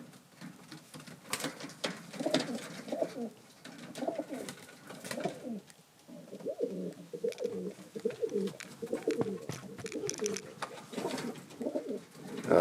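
Young pigeons coo steadily in a newly set-up loft, overlapping low throaty calls rolling on throughout with soft wing and foot shuffles, close and moderately loud.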